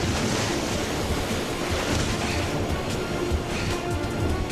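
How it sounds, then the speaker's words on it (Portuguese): Tidal bore waves surge and crash into the Bay of Fundy, a steady, loud roar of turbulent water with wind buffeting the microphone throughout. "A torrente de água se choca contra a baía."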